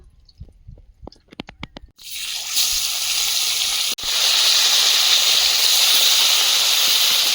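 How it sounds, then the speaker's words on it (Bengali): Bhola fish rubbed with salt and turmeric hits hot oil in a wok, bursting into a loud, steady sizzle after a few soft kitchen clicks, with a brief break midway before the hiss resumes. "কড়াইতে তেল দিয়ে মাছ ভেজে নেব"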